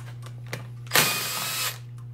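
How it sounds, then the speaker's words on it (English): A slide hammer pulling rocker shafts from a Honda XL125 engine: a sharp metallic knock, then a loud grinding, rattling burst of mechanical noise that runs for under a second before cutting off, over a steady low hum. "put a slide hammer on it, and yank them right out"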